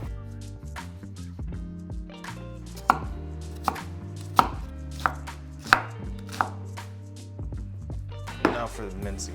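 A knife chops an onion on a cutting board while Filipino spaghetti is prepared, a series of sharp, close thuds at an uneven rhythm over a low steady background hum.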